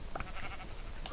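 A short sheep bleat from the video game Minecraft rises briefly out of a dense, noisy game background, faint and over in about a second.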